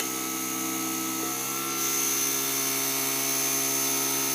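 An electric motor on a test rig hums with a steady whining drone, its pitch climbing slightly and the level rising after a second supply is switched in, with no voices.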